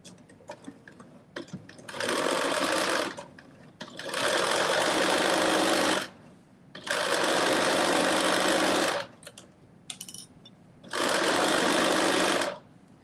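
A sewing machine runs a 5/8-inch seam on a Simplicity 9825 garment, joining back and side back panels, in four steady bursts of fast stitching with short quiet pauses between, close and loud.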